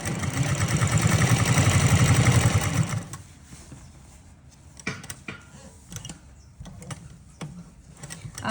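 Domestic sewing machine stitching elastic into a thick palazzo waistband, a fast loud whirring run for about three seconds, then stopping, followed by quieter clicks and handling of cloth.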